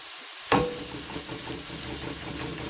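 Sausage frying in a pan for biscuits and gravy, beginning with a sharp clank and then a soft, steady sizzle that holds at a moderate level, close by, with no speech.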